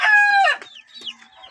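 Grown white chickens cluck close by, one loud drawn-out call followed by a few shorter, softer clucks in a brief burst.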